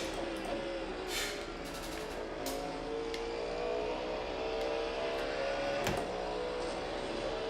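Cadillac GTP and LMP2 race cars lapping Monza in iRacing, a continuous engine whine with shifting pitch and several brief sharp bursts, no talking.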